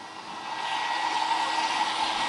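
Hair dryer blower running steadily indoors, a constant close whooshing whine with a strong airy tone, holding even throughout.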